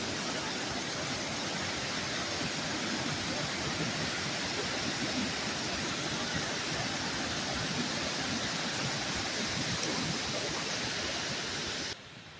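A waterfall at a picnic spot near Phulbani in Kandhamal pours down in a loud, dense, unbroken rush of falling water that holds steady for the whole stretch, then drops off abruptly at the end.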